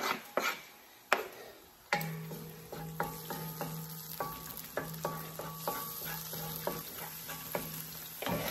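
Onions sizzling and frying in a pan for Filipino pancit gisado, a steady sizzle broken by repeated scraping stirs of a utensil against the pan, close and moderately loud with no talk.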